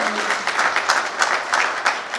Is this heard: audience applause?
yes